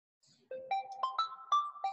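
A phone ringtone from an incoming spam call plays a short rising melody of bright electronic tones, six or seven quick notes stepping upward, fairly faint and clear, with no talking over it.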